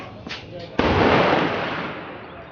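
A single gunshot at an outdoor shooting range, a sharp crack followed by a long decaying rumble, preceded by faint handling noises.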